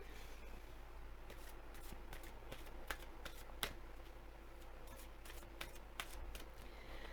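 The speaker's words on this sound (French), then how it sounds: "On va tirer une carte pour voir." Tarot cards are shuffled and drawn close by as a run of light, crisp card flicks and snaps over a steady background hum and hiss, with no talking.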